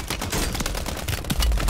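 Rapid automatic gunfire bursts and dense shooting crackle throughout a Call of Duty multiplayer match, loud and continuous with heavy low thumps, no talk over it.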